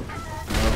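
A turkey-like bird enemy in the video game Sekiro gives a short, harsh squawk that swells in the second half of a brief burst, under low game rumble.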